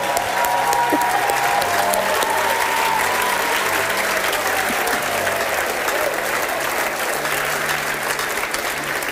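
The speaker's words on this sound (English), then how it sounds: "I want us to clap all the claps for this week now." A large church congregation claps vigorously and without pause for several seconds, a dense, loud, even roar of hands with some voices and sustained tones underneath.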